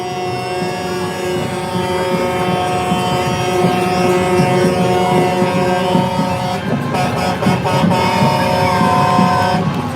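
Truck air horns honk at a freedom convoy rally in Victoria, BC, sounding as sustained loud blasts over a steady crowd and traffic din, with several short repeated toots later on.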